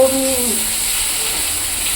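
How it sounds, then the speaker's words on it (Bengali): Bitter gourd frying with onion in a home kitchen pan gives off a continuous close sizzle, a bright steady hiss throughout, with a voice trailing off over it in the first half-second. "পেঁয়াজ দিয়ে করলা দিয়ে ভাজছি"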